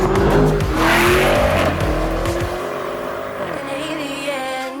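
A 2022 Lamborghini Urus SUV engine roars loudly and close, its pitch climbing through a hard rev before easing off into a quieter, fading drone, with no voices.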